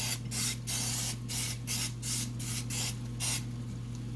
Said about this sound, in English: we're going to go ahead and spray this little muffin tin